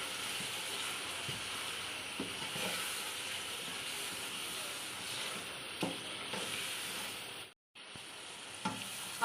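Haleem masala frying in a pan gives a faint, even sizzle with scattered soft stirring taps, and it cuts out briefly near the end.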